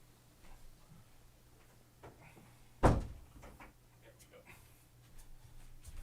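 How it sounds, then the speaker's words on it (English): A door is shut indoors at home, a single sharp close thud up near the microphone against a quiet room background. "let me shut the door so my loud mouth doesn't wake my son up"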